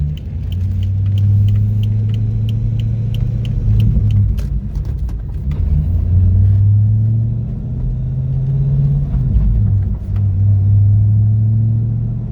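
A car accelerates slowly to 55 mph at light throttle during a smog emissions drive cycle, a loud steady engine drone rising and falling gently in pitch under road rumble, with no talk.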